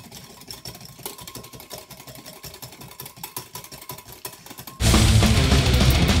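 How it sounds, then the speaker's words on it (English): Rapid whisking in a kitchen gives a steady, fast rattling rhythm for several seconds, then a much louder, dense burst of noise takes over near the end; no talk is heard. "And now we whisk."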